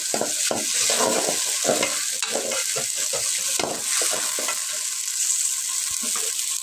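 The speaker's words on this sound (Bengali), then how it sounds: "রসুন আদা বাটা এখন ভালো করে মশলাটা কষে নিতে হবে" Garlic-ginger paste masala fries in a pan with a steady, close sizzle, broken by repeated scraping and stirring strokes in an uneven rhythm, with no talking.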